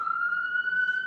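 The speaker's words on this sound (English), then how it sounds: "Excuse the sirens in the background." Emergency vehicle siren on a New York City street, a steady high wailing tone holding and slowly rising, fairly loud and somewhat distant, heard alone without talk.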